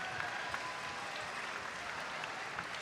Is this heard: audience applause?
yes